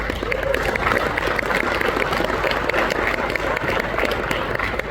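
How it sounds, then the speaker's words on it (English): A crowd at a Toyota motoring event in South Africa claps in sustained applause. The close, dense clapping holds at an even level for the whole five seconds. "that's something that I think is well worth giving Toyota a big round of applause for"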